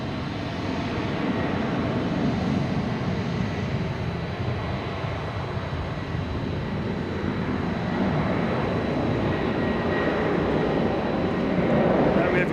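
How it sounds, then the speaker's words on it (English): A United Boeing 737-800 jet takes off at Boston Logan Airport, its broad steady engine roar filling the scene throughout and swelling slightly toward the end, heard from a spotting position at some distance. "United taking off to Chicago, 737-800."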